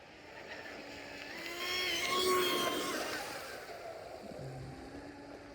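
An RC hydroplane boat with a Tenshock 1800kv electric motor whines across the water, rising in pitch and loudness toward the middle before easing off, steady and moderately distant with no talk.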